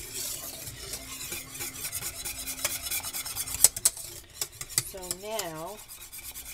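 Chipped beef gravy being whisked in a pot to break up lumps, close rhythmic scraping and tapping of the whisk against the pan with light bubbling; a brief word is spoken near the start.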